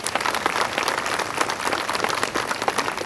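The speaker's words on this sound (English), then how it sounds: "Again, give yourselves a round of applause." A large crowd at an outdoor community walk applauds in a dense, sustained burst of clapping that stays loud and even for about three seconds.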